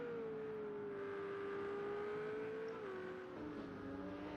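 Onboard engine note of a Ferrari GT3 race car in a racing game at Circuit of the Americas, a steady loud drone with pitch sliding slowly down, then stepping lower at downshifts near the end.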